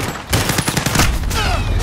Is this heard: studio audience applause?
no